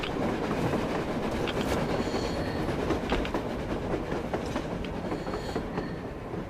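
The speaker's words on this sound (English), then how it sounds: "A train! A damn train on the surface!" A train in the post-apocalyptic shooter Metro rumbles along on the surface with a steady rolling roar and faint clickety-clack, loud and continuous, with no voices.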